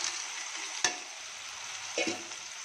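Cloves, fresh peas and fenugreek leaves fry in a pan with a steady hiss, broken by two sharp clinks of a utensil stirring against the pan.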